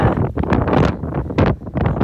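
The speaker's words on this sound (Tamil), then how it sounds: "காற்று சில்லு மழை எல்லாம் கலந்து இருக்குது." Wind gusting across a misty hilltop viewpoint in Kerala during a chilly rain, roaring close into the microphone in rough, swelling bursts with brief lulls.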